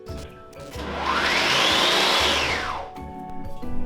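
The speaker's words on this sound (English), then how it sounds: "I really need to blend the dal, so it's gonna be noisy in here." A blender whirs loudly as it blends dal in an apartment kitchen, spinning up and holding a steady roaring buzz for a few seconds before winding down, with no voices.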